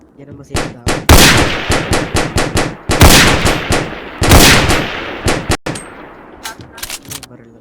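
Rapid gunfire from a Roblox shooting game, with repeated bursts of shots in quick succession, loud and close, over several seconds.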